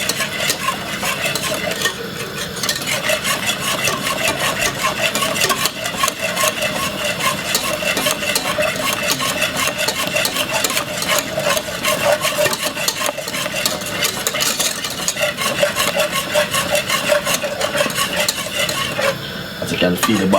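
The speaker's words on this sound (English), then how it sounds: "Give it a little whisk, have it on a high heat" Cornmeal porridge being whisked in a pot over high heat: a steady, busy scraping and stirring runs unbroken close by, with a faint sizzle and occasional light metal clinks, and no talking.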